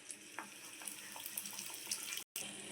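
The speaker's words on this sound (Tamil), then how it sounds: "இப்போது கேஸை சிம்மில் வச்சுட்டு இப்போ நம்ம டோனட்டை உள்ளே போட்டுடலாம்." Donut dough fries in hot oil over low heat with a soft, constant crackling sizzle and scattered pops. The sound is quiet and brief, with a sudden dropout near the end.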